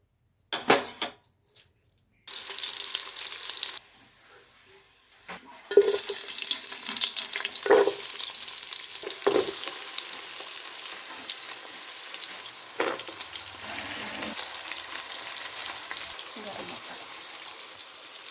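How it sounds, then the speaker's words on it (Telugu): Cashews and soya chunks fry in oil and ghee for a vegetable biryani, giving a steady close sizzle with intermittent stirring clatter and occasional pauses. "జీడిపప్పు పేయించుకోవాలి మిల్ మేకర్ కూడా వేస్తున్నాను చూడండి ఫ్రెండ్స్ దీంట్లో"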